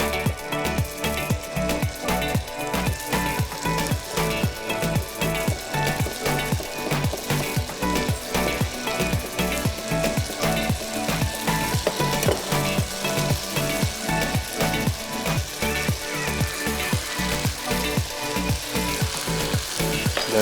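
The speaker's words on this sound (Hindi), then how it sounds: "हल्का सा इसको सौते करूँगा" Whole wheat pasta sauce with chili garlic ketchup and chopped parsley sizzles loudly and steadily in a pan, with rhythmic scraping from constant stirring.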